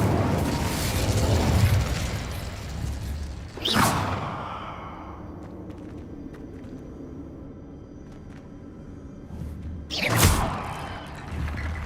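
An Incendio fire spell cast in Hogwarts Legacy, a loud whooshing fiery burst with a sharp onset, a crackling decay, and then a second blast several seconds later.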